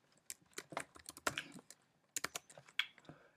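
Code is typed quickly on a computer keyboard, a close, irregular run of crisp key clicks with a short pause midway and no talking.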